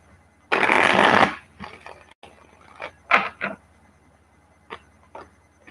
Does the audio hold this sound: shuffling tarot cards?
yes